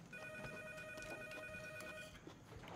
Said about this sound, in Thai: แม่โทรศัพท์มา